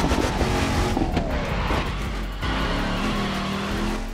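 Dodge Hellcat engine in the racing game The Crew 2 roars steadily and loudly throughout, with rising and falling harmonic tones as it revs, shifts and drifts under a constant driving drone.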